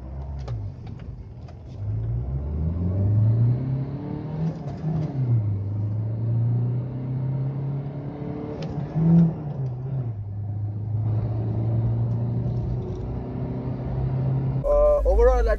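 A Ford Aspire Titanium with the 1.5 TDCi engine accelerates hard. Its engine note climbs steadily, drops back at the gear changes, then climbs again in a loud, continuous drone from inside the car.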